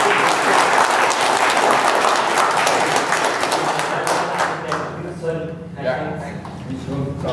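A live audience at an election vote-count announcement in Washington State bursts into loud, dense applause for the first candidate slate. The clapping stays strong for about four seconds, then thins and fades while a voice talks over the tail.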